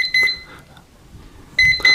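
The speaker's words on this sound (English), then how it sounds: "ETEKCITY does say it has that high current alarm." An ETEKCITY MSR-A1000 multimeter sounds its high current alarm when pushed over 10 amps. Two short bursts of loud, high-pitched beeping are separated by a quiet gap.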